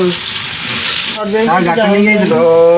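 Onions fry in a pan with a steady, loud sizzle throughout, while a voice talks over the cooking.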